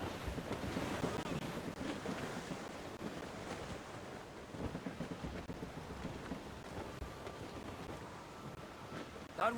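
A sailing ship in the Assassin's Creed Rogue video game rides through gusting wind and rolling sea, a steady rushing roar of wind and surging water at moderate volume with no clear talking.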